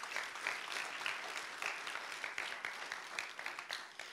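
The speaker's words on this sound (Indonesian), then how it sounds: "Tepuk tangan buat Tuhan Yesus" Congregation applauding in a church service for Jesus, a steady wash of many hands clapping at moderate distance, sustained throughout without a break.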